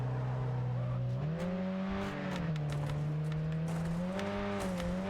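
Racing car engine in the video game Wreckfest, holding a steady loud drone that rises and falls in pitch through gear changes, with tyre noise and faint knocks underneath, close and continuous.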